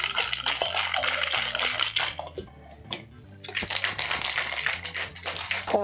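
Loud, rapid rattling of ice in a cocktail shaker being shaken hard for a gin cocktail, with a brief pause midway, over background music.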